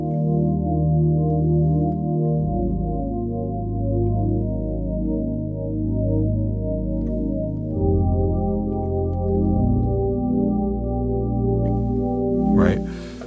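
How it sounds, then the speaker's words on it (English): Warm synth pad from the ensemble section of an Sk Pro keyboard, holding smooth sustained chords that shift slowly over about thirteen seconds, full and close, ending with a short bright flourish. "which is the warm pad."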